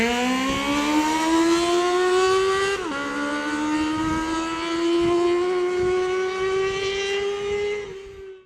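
A high-revving four-valve inline-four 1980s sportbike engine with a redline starting at 19,000 rpm screams close by, climbing in pitch through a gear, dipping briefly at a shift, then rising again before cutting off.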